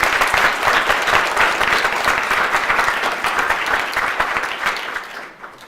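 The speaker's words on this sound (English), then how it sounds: "So let's give them a round of applause as Nancy and" An audience in a school board presentation claps steadily in a loud, even round of applause that fades out near the end, with no talking over it.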